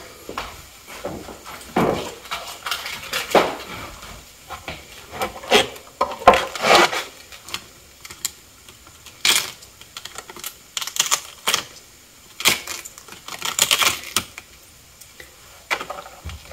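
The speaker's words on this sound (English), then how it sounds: "I prefer just to use a knife and a cutting board" A knife shreds organic garden cabbage on a wooden cutting board in irregular bursts of scraping, crunchy cuts separated by short pauses, close and fairly clear.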